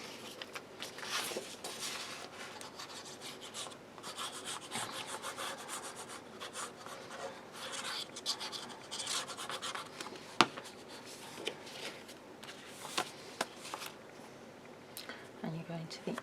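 A tool burnishes paper down onto a page of a craft album, giving close, steady rubbing strokes with a few sharper scrapes and taps.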